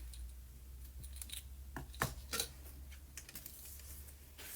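Paper being trimmed with scissors for a stamped fishing-vest craft project: a few quick, crisp snips cluster near the middle, close and fairly quiet over a steady low hum, with no talking.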